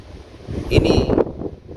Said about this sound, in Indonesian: ini angin sedikit kencang